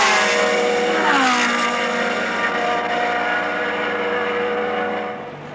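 Open-wheel Formula One cars of 1969 screaming past at the Mexican Grand Prix, a loud, sustained high-revving engine howl with a falling pitch as a car passes, fading slightly at the end.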